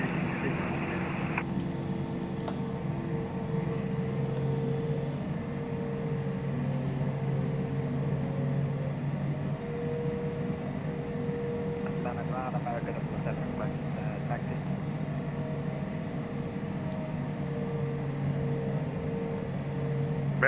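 Steady low jet engine hum of an airliner taxiing at Atlanta in Microsoft Flight Simulator, a constant drone under radio and cockpit talk.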